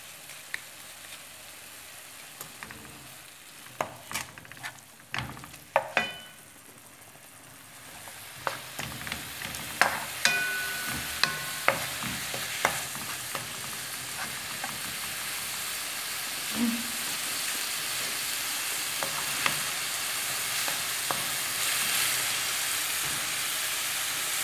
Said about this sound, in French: Je fais revenir l'oignon jusqu'à ce qu'il soit translucide